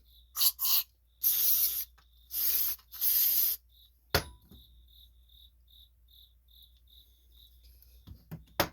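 An aerosol can of carburetor cleaner sprays in four or five quick hissing bursts, followed by a clunk and quiet with faint chirping in the background, while servicing a Cub Cadet riding lawn mower carburetor.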